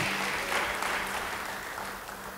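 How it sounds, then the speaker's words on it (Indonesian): A church congregation claps during a sermon in a short, steady wash of applause, fairly loud and with no voices over it. "Yang percaya beri tepuk tangan yang baik bagi dia"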